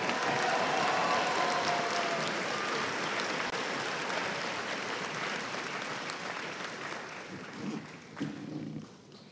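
Audience applause fills a graduation ceremony for students awarding degrees and certificates, a dense steady roar of many hands that slowly thins and fades toward the end, with a few stray voices rising near the close.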